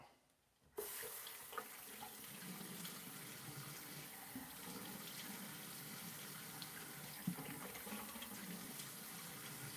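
Cold tap water runs steadily into a sink for rinsing during a shave, a continuous close hiss and splash that starts abruptly and holds for several seconds, with a few small clunks and no talking.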